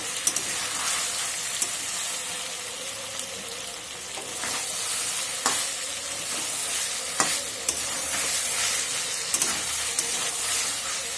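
Vegetables for sukto are stirred and sautéed in a hot pan, with a steady sizzle and hiss throughout and scraping strokes of a spoon rising every few seconds, close and fairly loud, with no talking.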